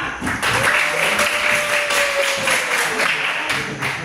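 Classmates in a school classroom clapping for a group after its presentation, a brief round of applause with a faint tone running underneath.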